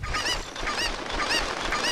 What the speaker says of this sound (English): I'm gonna die to chickens!